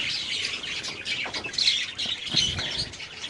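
Budgerigars in breeding cages give a chorus of shrill, overlapping squawks and chirps, with short bursts and occasional wing flutters that carry on steadily at moderate volume.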